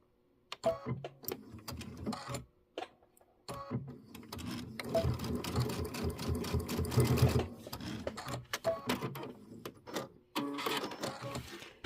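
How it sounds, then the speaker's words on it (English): Sewing machine stitching along a fabric edge with a digital dual feed foot and open-toe foot, a close, steady mechanical whir in short bursts with pauses between runs. "So that's just a stitch right along the very edge"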